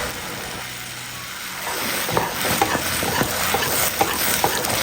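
A spoon scrapes and stirs idli batter mixture in a pan, a steady sizzling hiss underneath with irregular scraping strokes growing busier in the second half.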